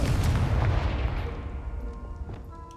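A Confringo explosion spell cast in Hogwarts Legacy: a single deep booming blast with a low rumbling tail that fades over a couple of seconds, heard alone.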